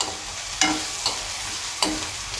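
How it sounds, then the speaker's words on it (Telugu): Low, steady sizzle of frying in a pan on the stove, broken by a few sharp scraping stirs, quiet and close, with no talking; the dish is a stuffed bitter gourd curry. "కొంచెం గోల్డ్ కలర్ వచ్చేదాకా మనం ఫ్రై అనేది చేసుకుందాం"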